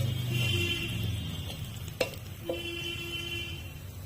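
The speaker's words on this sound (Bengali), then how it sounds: "তেলটা ভালোভাবে গরম হয়ে গেছে, এর মধ্যে কিছুটা রসুন কুচি দিয়ে দিলাম।" Chopped garlic and kasuri methi frying in hot oil for a Bengali egg tadka, with a steady soft sizzle, stirring sounds and a sharp utensil clink midway, no talk.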